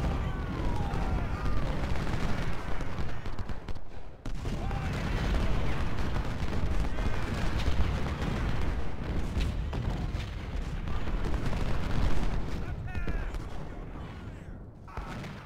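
Musket volleys and artillery fire from a Civil War battle in the strategy game Ultimate General: Civil War, a dense, continuous crackle of gunfire with booming shots throughout, loud and sustained with a brief dip near the middle.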